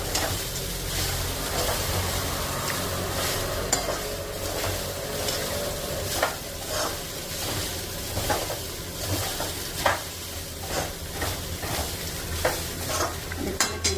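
Poha upma is stirred in a pan over low heat, a continuous soft sizzle marked by regular scraping strokes of a spoon against the pan, close and steady with no talking.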